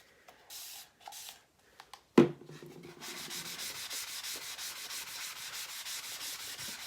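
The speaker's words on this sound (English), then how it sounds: "I'm going to wet that and then wipe it with my board eraser" Wet eraser scrubbing chalk paste off a board in steady, rhythmic back-and-forth strokes, close and moderately loud after a sharp knock and a few scattered rubs.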